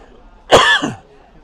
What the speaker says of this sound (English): I've got Tenerife cough.